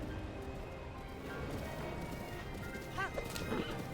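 Horse hooves clip-clopping at a gallop in Breath of the Wild, with a brief whinny near the end, steady and moderately loud amid game ambience and background music, with some talk underneath.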